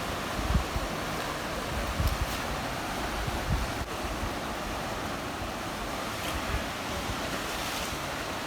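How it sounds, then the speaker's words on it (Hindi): Sea waves wash steadily near a lighthouse in the Andaman Islands, a continuous broad roar of surf mixed with wind buffeting the microphone, with occasional low thumps and no voices. "पानी की आवाज़।"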